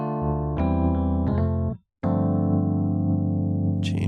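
A Rhodes electric piano sound from the Keyscape plugin plays sustained, warm chords, with a brief silent break before a long held chord rings out alone and close.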